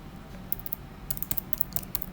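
Typing on a computer keyboard during a coding lesson, a quick run of light, crisp key clicks in uneven rhythm, close and fairly quiet over a steady background hiss.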